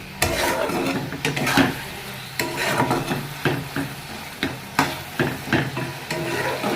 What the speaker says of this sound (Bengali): সব কিছু দেওয়া হয়ে গিয়ে এর মধ্যে একটু নাড়াচাড়া করবো